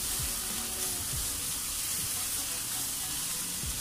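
Ingredients for chicken and rice sauté in a pan with a steady loud sizzle and hiss, broken by a few scraping stirs.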